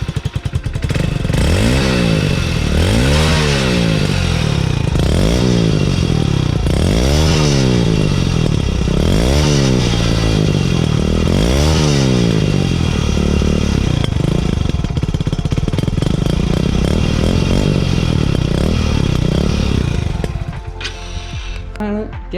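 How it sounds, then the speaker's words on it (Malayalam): A Hero Splendor BS6 motorcycle fitted with a Euro 1 silencer runs loud and close, its exhaust note rising and falling in steady rhythmic surges before cutting off near the end. "സ്പ്ലെൻഡർ എക്സ്ട്രാക്കിൻ്റെ ഏറ്റവും പുതിയ മോഡൽ BS6 ആൻഡ് ഇതിൻ്റെ വെച്ച് ഞാൻ കേൾപ്പിച്ചു തരാം. വച്ചേക്കും സൈലൻസർ യൂറോ 1 എക്സോസ്റ്റ് കേട്ടോ."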